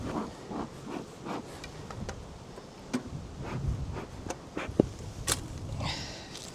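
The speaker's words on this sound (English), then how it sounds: "Here's a lovely box of bees, though." Honeybees in a hive box give off a faint, low buzz, with soft ticks and scattered knocks and rustles close by.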